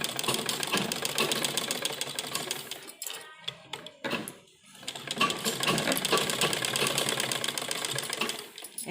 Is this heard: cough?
no